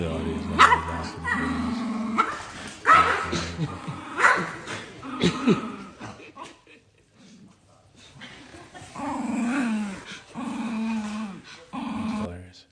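Small dogs bark and yip in rapid, agitated runs with growls mixed in, fairly close, pausing briefly midway before starting up again.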